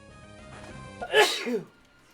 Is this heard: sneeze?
yes